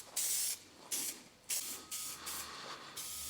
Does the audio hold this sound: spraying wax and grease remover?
yes